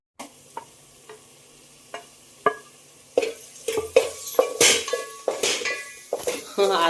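Ginger-garlic paste fries in oil with bay leaf in a covered pot for mutton biryani, giving a low, steady sizzle broken by sharp clinks of a spoon and lid against the metal, growing busier toward the end.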